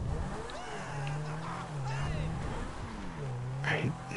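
A car driving and revving in Grand Theft Auto, its engine note rising and falling steadily under game music and ambient layers, with a brief louder burst near the end.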